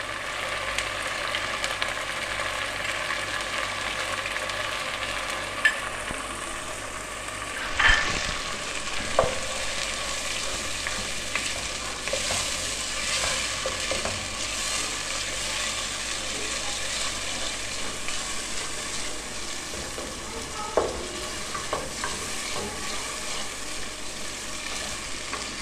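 Masala roasting in a pan with yogurt added for moong dal, a long steady sizzle and crackle with occasional spoon scrapes and knocks, close and without talk.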